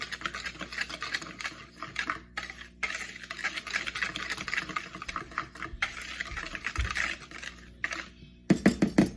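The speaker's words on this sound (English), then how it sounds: "I'm just going to whisk the dry ingredients together here" A small whisk-like utensil stirs dry ingredients for a banana cake in a bowl, giving steady close scraping and light clattering throughout, with a couple of brief pauses and a sharper knock near the end.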